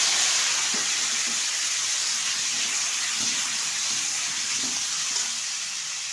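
Peeled new potatoes go into hot oil with cumin and bay leaf, giving a steady loud sizzle and hiss with faint stirring scrapes and a few soft knocks.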